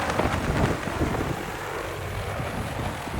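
Seed-planting drone flying over a hillside at Talla Reservoir near Tweedsmuir, giving a steady, fairly loud broadband whir with wind buffeting the microphone throughout.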